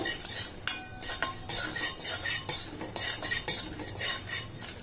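A metal spoon stirs and scrapes spices around a pan with the stove switched off, while making ground-masala sambar. The scraping comes in a quick, steady rhythm with light clinks against the pan, close and alone.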